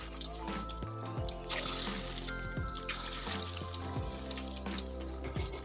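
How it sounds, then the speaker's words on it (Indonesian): Food deep-frying in a pan of hot oil over medium heat gives a steady, bubbling sizzle throughout, with faint hum and occasional clinks in the background. "bisa langsung kita goreng ke dalam minyak panas, kita goreng dengan menggunakan api sedang"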